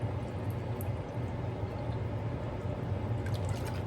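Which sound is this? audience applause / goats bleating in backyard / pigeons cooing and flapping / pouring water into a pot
pouring water into a pot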